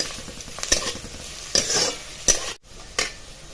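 Chopped onion sautéing in a pan for a spicy lentil curry, a low sizzle broken by several sharp scrapes and clinks of a spoon stirring, close and clear.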